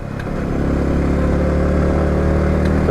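A motorcycle engine labours steadily uphill on the climb to Sajek Valley, held at moderate throttle, a continuous close mid-range drone with a slow rise in level and no voices.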